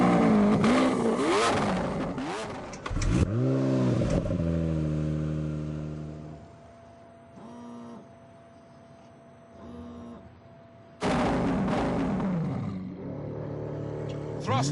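A 730-horsepower non-hybrid car accelerating hard, a loud close engine roar rising through several gear changes, then fading before another burst of revving near the end.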